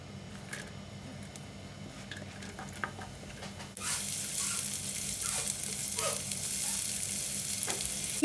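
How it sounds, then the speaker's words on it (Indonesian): Ground spice paste with garlic and shallots sautéing in a few spoonfuls of oil in a nonstick pan for beef tongseng, a steady close sizzle that jumps louder and brighter partway through as more goes into the pan. "Tumis bumbunya sampai layu, bawang putih, bawang merah."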